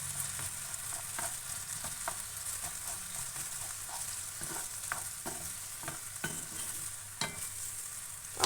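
A spoonful of tomato paste for menemen is pressed and stirred into a pan of cooking tomatoes, giving a soft sizzle broken by light scraping taps of the spoon, close but quiet, with no speech.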